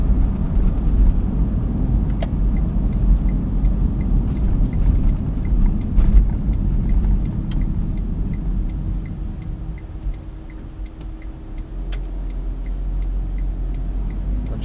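From inside a 2012 Smart Fortwo Coupe Passion mhd with Softouch gearbox, a steady low engine drone and road rumble fill the cabin, easing slightly midway as the gear changes, with faint ticks throughout.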